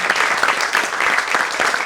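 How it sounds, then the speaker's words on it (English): A large audience at a literature festival's lifetime achievement award gives a brief, dense burst of applause, loud and sustained with rapid overlapping claps. "A huge round of applause"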